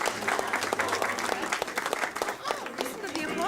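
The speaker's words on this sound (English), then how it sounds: "Listen to the applause" Applause from a live studio audience in a radio studio, a busy patter of many hands clapping at moderate distance, while voices talk faintly underneath.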